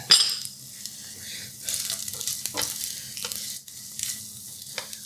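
An egg frying in a ceramic nonstick fry pan gives a steady soft sizzle throughout, with a few light scrapes and clinks of a utensil against the pan.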